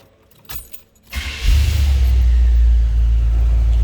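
A 1984 GMC Jimmy 4x4 with a small block Chevy engine rattles with jangling keys, then cranks and catches at about one second, settling into a loud, steady, deep idle rumble close by.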